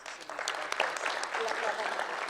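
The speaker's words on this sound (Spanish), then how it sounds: "permítanme que juntos aportemos nuestro reconocimiento con diferentes aplausos a cada uno de nuestros panelistas" An audience at a forum on gender quotas in Mexico claps for panelists in a steady burst of applause, with a voice speaking over it.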